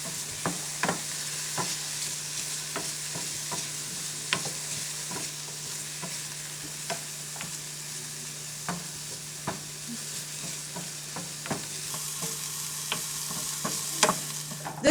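Shallots fry in a pan on the stove, giving a steady close sizzle that runs throughout, broken by frequent sharp scrapes and clicks from stirring; no one speaks.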